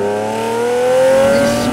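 A 1988 Ferrari Testarossa's flat-12 revs up through an aftermarket 2B exhaust, a loud, close, smooth rising wail with layered harmonics, heard alone.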